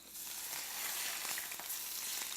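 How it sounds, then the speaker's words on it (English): Hot vegetable oil poured over onion and fish, a loud steady sizzle that builds slightly and holds, with faint crackles and no voices. "This is hot oil, vegetable oil. Ah, listen to that."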